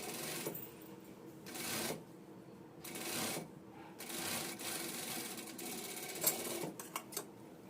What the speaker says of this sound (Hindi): यहां से आपको सिलाई लगानी है